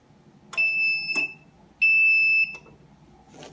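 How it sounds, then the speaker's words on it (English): A kitchen-style timer used during sublimation lamination on a rolling tray beeps in two loud, sustained electronic tones, close and clear against faint background noise. "My timer is set for 6 seconds"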